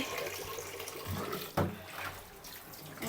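Running tap water splashes steadily as a cooking pot is washed in a sink, with a brief louder gush and clatter midway; no one speaks.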